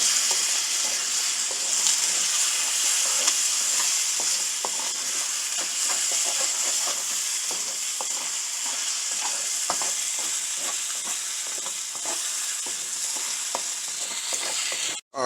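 Sweet and sour chicken sizzles steadily in a pan as it is stirred, a constant bright frying hiss broken by small scraping clicks from the utensil, close and continuous until a brief stop at the very end.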